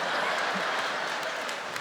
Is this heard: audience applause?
yes